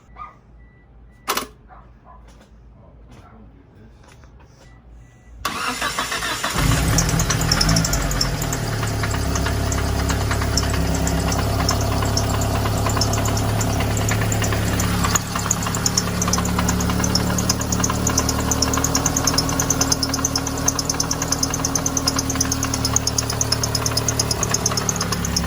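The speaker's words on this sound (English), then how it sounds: "Transmission makes noise, so let's see what that sounds like" An S2000 AP2 fitted with a swapped F22C1 engine cranks and fires after a few quiet seconds, then runs at a loud, steady idle with a rough, knocking mechanical clatter and transmission whine.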